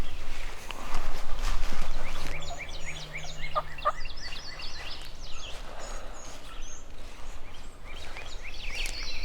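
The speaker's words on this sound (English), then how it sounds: "Pretty sure they're gobbling back in here somewhere now." Wild turkeys gobble repeatedly from some distance in woodland near a cabin, rattling calls rising over a steady outdoor background with faint rustling.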